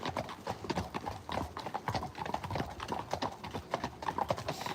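Steady clip-clop of a limping horse's hooves on a hard surface, rhythmic and close, continuing throughout.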